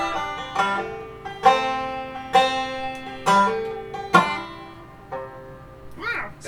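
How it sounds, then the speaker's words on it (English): A five-string banjo in drop C tuning picks out a bright, ringing phrase. Sharp plucked attacks recur about once a second, each leaving a decaying tone, and the passage plays alone at close range. "So banjo sounds like this."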